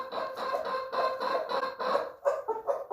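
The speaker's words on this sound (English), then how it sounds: "And Kagome, our hen up there, was just saying hello as well." A hen clucks in a quick, rhythmic series of short calls, close and clear, with a few sharper, louder clucks near the end.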